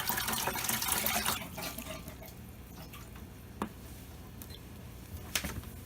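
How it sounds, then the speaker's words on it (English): Water running into a fish tank fitted with a guppy breeding basket, a loud pouring rush at the start that eases into a quieter trickle, with a few distinct drips near the end. "I got the water level about as full as I'm going to fill it"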